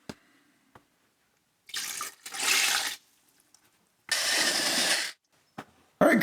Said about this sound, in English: so I'm gonna add a little bit more water